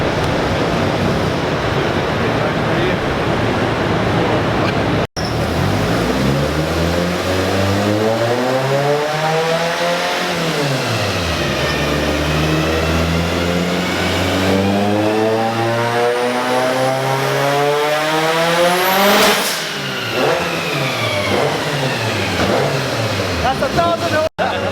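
A Mitsubishi Evo 8 engine revs hard through a full power pull, rising and falling in pitch with loud, sweeping harmonics; a brief shift break and voices talking sit under the roar.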